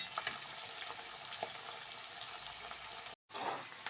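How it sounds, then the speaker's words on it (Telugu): Onions frying in oil for egg dum biryani, a soft continuous sizzle with faint stirring clicks, heard close and alone. "కాబట్టి నేను ఫ్రైడ్ ఆనియన్స్ వేయించుతున్నాను."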